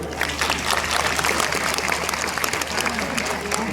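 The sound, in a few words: crowd applauding at police passing out parade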